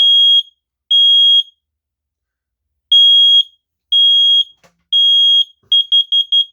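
An AEGISLINK SC-RF200 smoke detector under test sounds loud, piercing beeps: single long tones spaced apart, then a quick burst of four short beeps at the end.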